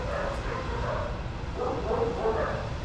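Dogs at a daycare yip and bark in soft, scattered bursts within a noisy room, partly under background chatter.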